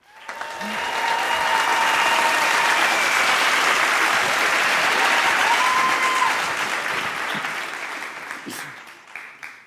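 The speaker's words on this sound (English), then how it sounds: "Please, a big round of applause for Ibrahim, Creative Director at IRTH." Applause at an invitation-only launch event as a creative director is welcomed, swelling quickly into dense, steady clapping with scattered cheers, then tapering off.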